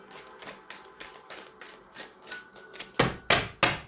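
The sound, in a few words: tarot cards being shuffled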